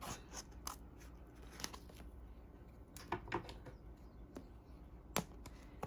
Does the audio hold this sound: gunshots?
no